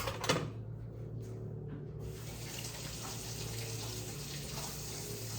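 A kitchen tap runs steadily as an avocado is rinsed beneath it, a close, even stream of water splashing into the sink after a brief clunk at the start, with no voices.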